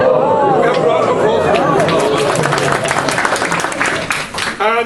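A theatre or hall audience breaks into loud, sustained applause and cheering, dense clapping with crowd chatter throughout, tapering slightly near the end.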